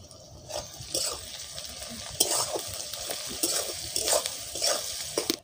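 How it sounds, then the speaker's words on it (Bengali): Chopped onions for paneer biryani fry and sizzle in a pan while being stirred, with repeated scraping strokes and light clinks, close and fairly loud. "পেঁয়াজটা ভাজা ভাজা হয়ে গেছে"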